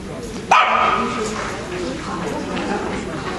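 A corgi barks once, sharp and close, among dogs held on a long down-stay at a dog show, then a noisy indoor hall murmur with people talking continues.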